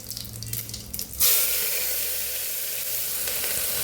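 Cumin, tomatoes, ginger and chillies drop into hot oil, setting off a sudden loud sizzle that holds steady and bright after a quieter moment of kitchen noise, no talking.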